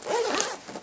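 A metal zipper with branded pulls slides along the track of a SwissGear Synergy laptop backpack, one quick close rasping pull that fades out at the end.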